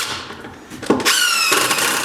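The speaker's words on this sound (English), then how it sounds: "Put a little pre-drill mark in there, just to keep everything kind of neat and clean on the outside of the table." A power drill pre-drilling into a wooden picnic table in a woodshop, a loud close whir that rises sharply in pitch as the bit spins up and bites, holding steady at high speed.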